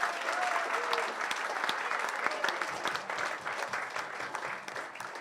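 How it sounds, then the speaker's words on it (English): A crowd at a Palace for Life Foundation charity celebration gives continuous applause, a dense patter of many hands. A few louder nearby claps stand out as it carries on throughout. "so big round of applause to all my colleagues here"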